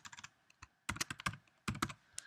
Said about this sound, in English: So we're going to type in